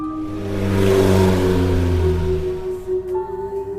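A car passes on a night highway, its engine hum swelling loud and close, then fading away with a smooth whirring drone.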